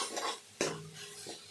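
Taro flowers being stirred and mixed with tamarind gravy in a pan, with a few scraping, rubbing strokes of a utensil against the pan and a faint sizzle between them.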